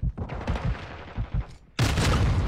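Shotgun fire in a Call of Duty match: a few low booming shots early on, then a loud sustained burst of gunfire toward the end.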